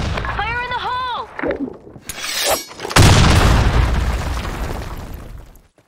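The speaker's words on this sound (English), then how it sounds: "Grenade!" A grenade goes off in a combat video game with a loud, heavy boom that rumbles for a few seconds and then fades. Before it come a brief shouted voice and clattering sounds.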